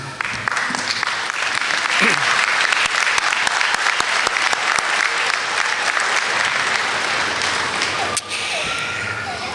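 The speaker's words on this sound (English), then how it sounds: "offer your thanks to them with your applause" A stadium crowd at a Missouri State University–West Plains 2024 commencement ceremony applauds in sustained, dense clapping that fills the whole stretch at steady volume, with scattered cheers and sharp individual claps standing out near the end.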